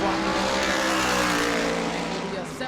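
A modified race car roars at full throttle around New Smyrna Speedway during qualifying, a loud, sustained engine drone holding steady with a slight fade at the end, with commentary over it.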